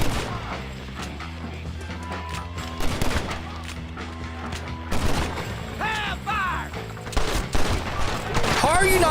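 Shotgun blasts in the western game Red Dead Redemption, several loud sharp reports spaced irregularly amid game music and clatter, with a voice talking briefly in between.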